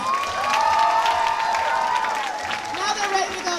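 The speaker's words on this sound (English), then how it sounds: "Give them another round of applause" Applause and cheering from an audience at an elementary school's Beauty and the Beast performance fill the space steadily, with shouts and whoops rising above the clapping throughout.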